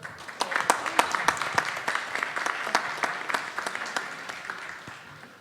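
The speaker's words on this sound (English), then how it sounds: "Let's give her a round of applause in the back." Audience at a city budget town hall meeting giving a round of applause, distinct individual claps close by over a broad crowd clapping that slowly fades.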